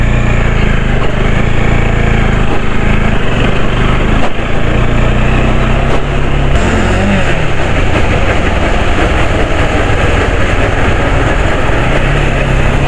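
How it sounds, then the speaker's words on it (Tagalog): Motorcycle riding along a muddy, sandy trail with its drive chain clogged by sand, a loud continuous engine drone with rough mechanical chatter running steadily throughout, no talk. "naririnig yung kadena. Sobrang lakas. Pag nalalagyan talaga ng buhangin yan."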